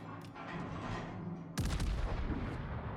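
Heavy cruiser Pensacola firing its main naval guns in the warship game World of Warships: a deep booming salvo cracks suddenly amid a steady loud engine and sea rumble.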